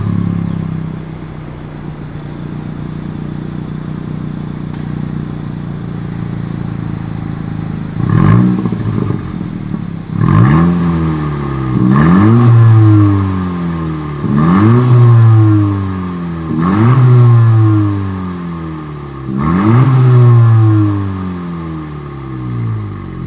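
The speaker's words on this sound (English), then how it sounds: "As always, here is that exhaust clip." A 2020 Honda Civic Si's exhaust sounds off: idle at first, then five or six strong revs rise and fall one after another in a steady rhythm, close and loud, with no talking.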